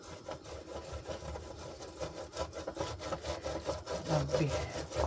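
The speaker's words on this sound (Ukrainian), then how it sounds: "Я вже сюди додала цибульку і натираємо помідор." A tomato is rubbed against a grater in quick, rhythmic rasping strokes, a close, steady scraping that continues throughout at moderate volume.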